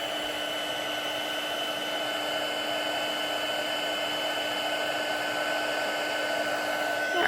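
A heat tool blows hot air steadily to melt embossing powder for a stamped card, a constant close whooshing hum with a faint whine that runs unbroken throughout, with no talking.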